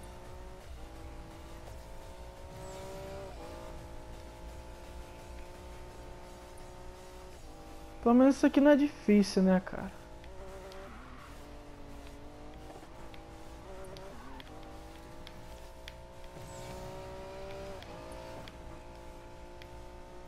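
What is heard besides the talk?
fast car racing engine in video game Need for Speed Payback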